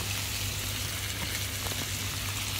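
Shrimp and clams sauté in a hot pan, giving a steady, dense sizzle that holds evenly throughout with no talk over it.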